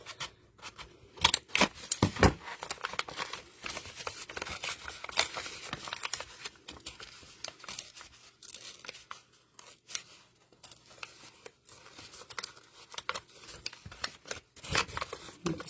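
Scissors snip into a paper envelope to open a hole, giving close, irregular crisp cuts with crinkling and rustling of the paper throughout, with no talking.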